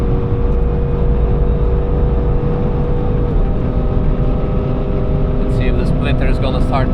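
A Corvette at speed on a VMAX run, a loud steady engine roar and wind rush filling the whole stretch, with a voice breaking in over it near the end.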